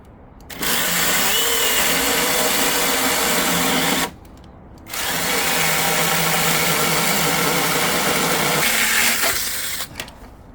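A 6-inch cordless mini chainsaw cutting wood, a loud close motor whine that runs for about three and a half seconds, stops briefly, then resumes for a longer cut before winding down, with no talk.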